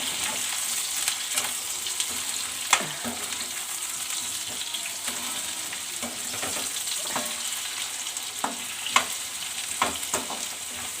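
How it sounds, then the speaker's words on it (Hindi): Potatoes fry in a pan with onions, a steady close sizzle with occasional stirring clinks and scrapes throughout, no talk. "आलू फ्राई कर लेते हैं बढ़िया से एकदम"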